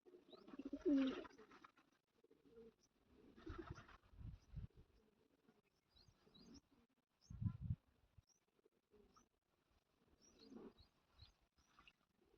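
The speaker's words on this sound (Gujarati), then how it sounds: "મિત્રો અમારી વાડીએ કબૂતરા પણ આવે છે," Pigeons cooing on a farm, soft low coos repeating in short bursts with quiet gaps between them, faint and fairly close in an otherwise still outdoor setting with no talking.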